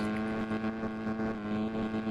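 Honda Click version 3 motorcycle engine revving in a Roblox motor show, a steady buzzing drone with a strong constant pitch and slight pulsing throttle blips, close and loud, with no voices.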